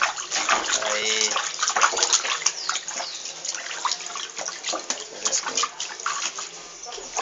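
Water splashes and trickles as a rabbit is bathed in a small tub, with uneven sloshing bursts and drips close by while someone talks over it.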